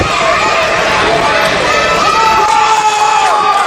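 A wrestling arena crowd cheers loudly and steadily, a dense roar of many voices with shouts rising above it throughout.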